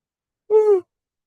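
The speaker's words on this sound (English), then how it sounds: "sorry I keep yawning" A person yawns once, a short voiced, tonal exhale that rises and falls, with silence before and after.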